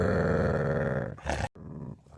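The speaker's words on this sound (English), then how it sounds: "Growling." A dog gives a deep, rumbling growl for about a second, close and loud, then breaks off abruptly before a shorter, softer rumble follows.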